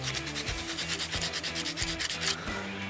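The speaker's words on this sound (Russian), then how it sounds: "Далее берем наждачку мелкую, лучше очень мелкую" A copper plate for a rune pendant is sanded by hand with fine sandpaper, giving rhythmic, close scratchy back-and-forth rubbing strokes in a steady series with no talking.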